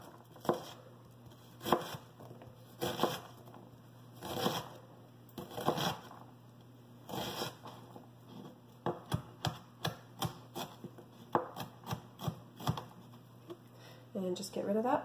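Knife chopping half a red onion on a cutting board, a series of crisp, close taps that start spaced apart and speed into a quicker, denser run of cuts near the end.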